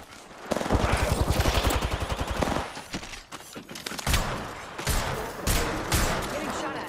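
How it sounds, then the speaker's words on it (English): Rapid automatic gunfire in the battle royale game Apex Legends, a dense burst of fast shots followed by scattered volleys and impacts, loud and continuous over game sounds with a voice speaking at times. "Getting shot at."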